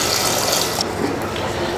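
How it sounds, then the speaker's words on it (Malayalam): A quarter cup of water goes into a Kerala-style cabbage curry as it cooks, a loud, steady rushing pour with hissing that fills the whole moment, with no one talking. "ഇപ്പം ഞാൻ ഇതിലേക്ക് ഒരു കാൽ കപ്പ് വെള്ളമോടെ ചേർത്ത് കൊടുക്കുവാണ്."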